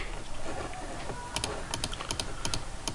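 Someone types a password on a computer keyboard, a quick run of light, close key clicks coming in small bursts over faint room noise.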